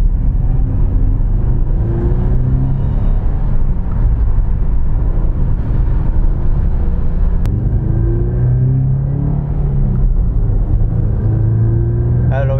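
A Toyota GT86 with a modified exhaust is driven, giving a loud, continuous low engine rumble with a few rising revs, and occasional talk is heard over it.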